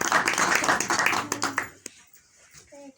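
A congregation applauding at a New Year church gathering, a burst of clapping that fades out after about a second and a half, followed by near silence with a faint tone.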